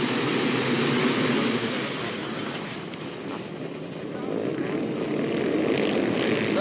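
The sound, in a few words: 500cc motocross bikes launching from the start gate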